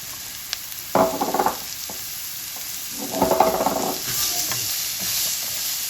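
Small chopped carrot pieces hiss in hot oil with turmeric, under a steady sizzle with two bursts of scraping stirring.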